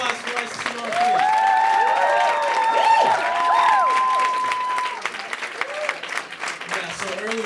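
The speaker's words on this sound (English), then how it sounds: "Another round of applause for Raissa Simone, please." A comedy club audience applauds and cheers for a comedian, loud sustained clapping with whoops and voices calling out over it throughout.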